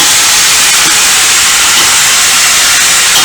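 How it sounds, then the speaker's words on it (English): A pot roast sears in a hot pan, giving a loud, steady, close sizzle and hiss that stays constant the whole time with no talking. "we're just trying to get a good sear"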